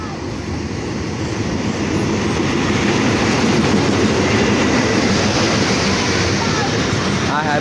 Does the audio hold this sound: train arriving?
yes